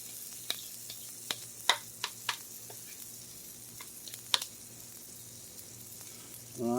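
Wet zucchini pancakes frying in oil in a pot, a steady low sizzle with scattered sharp pops and crackles, fairly quiet and close, with a clatter near the end.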